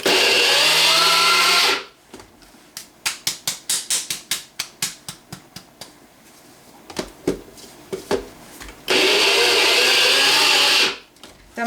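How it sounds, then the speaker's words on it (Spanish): Shrimp are ground into a paste in a food processor or grinder in a home kitchen, with a loud whirring motor at the start and end, and a series of short, sharp pulsed bursts in between. "moler muy poquito los camarones para hacer una pequeña pasta"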